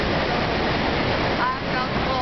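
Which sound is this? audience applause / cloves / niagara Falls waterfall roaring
niagara Falls waterfall roaring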